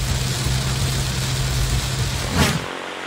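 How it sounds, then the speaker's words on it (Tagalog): Heavy rain from Tropical Depression Bising pours down in La Union, a steady dense roar with the low rumble of a passing vehicle, which swells briefly near the end before the sound drops away abruptly. "Sa La Union, halos zero visibility sa lakas ng ulan."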